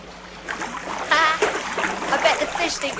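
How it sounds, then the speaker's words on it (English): Water splashing and swishing as a hand stirs through a garden pond with fish, irregular close splatters under light background speech. "Being able to swish the water with her hand."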